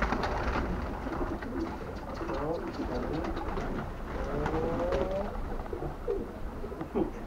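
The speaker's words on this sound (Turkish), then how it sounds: "Bak, bir kuş koşuyor, bir kuş koşuyor." Birds cooing and chirping in short, scattered calls over a dense, steady background rumble, fairly close and continuous throughout.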